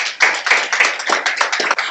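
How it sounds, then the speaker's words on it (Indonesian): A church congregation claps hands in praise during a sermon, close, loud bursts of clapping in uneven waves with sharp individual smacks, no speech over it. "Berikan tepuk tangan bagi Tuhan kita."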